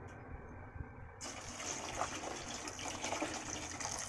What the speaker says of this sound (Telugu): ఇప్పుడు వాటర్ వేసేసుకుందాం అందులో.